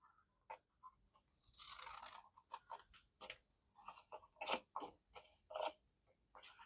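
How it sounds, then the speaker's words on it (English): Quiet, crisp snips and crunches of scissors cutting through paper, coming in quick irregular bursts close by with brief pauses between cuts. "and then we'll cut these outside flaps off"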